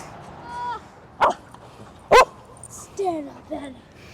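A few short, sharp dog barks ring out close by during a family vacation, two loud isolated ones followed by quicker yelping calls, with human voices around them.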